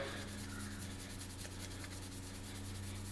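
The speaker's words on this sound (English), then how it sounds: "All you need to do is just lightly scuff it a little bit" A Jeep headlight surface is lightly scuffed by hand to prep it for paint, giving a soft, steady rubbing close by with a low hum underneath and no talk.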